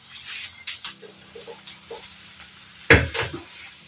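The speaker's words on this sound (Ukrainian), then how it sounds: "А я тим часом нарізаю чесничок" A kitchen knife chops six garlic cloves on a board while eggplant fries nearby: a few soft, quick taps, then one sharp, louder crunching chop followed by scraping, over a low, steady background hum.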